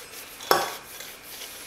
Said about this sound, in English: Just wash your dishes like any other person would.